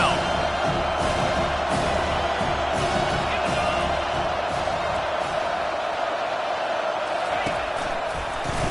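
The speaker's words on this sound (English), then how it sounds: "Decibels rising as the crowd gets behind this defense on third down." A college football stadium crowd roaring steadily behind the defense on third down, a dense sustained wall of cheering with occasional thumps, loud and continuous.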